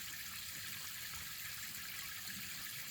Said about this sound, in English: Let the water feed through it for a while.